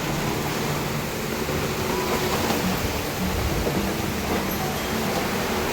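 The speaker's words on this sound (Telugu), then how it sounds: "ఎంత వర్షం పడుతుంది" Heavy rain pours down outdoors as a dense, continuous hiss that holds steady and fairly loud from start to finish, with no voices.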